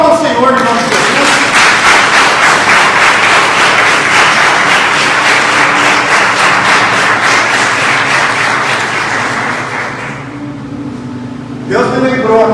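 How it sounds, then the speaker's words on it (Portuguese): Church congregation applauding during a worship service, a sustained wash of many hands clapping that is loud and steady for about ten seconds, then fades, followed briefly by a voice. "Então aplauda o Senhor em nome de Jesus."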